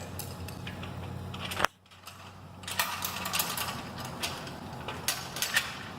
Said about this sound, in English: what you want to do is loosen up the nut on the T-bolt and slide it into the channel